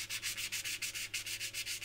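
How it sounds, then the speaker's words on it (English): Sandpaper rubs back and forth over a scratch on an IWC watch case, a fast even rhythm of about a dozen short rasping strokes, close and steady. "Whereas if you sand it, you get rid of the scratch."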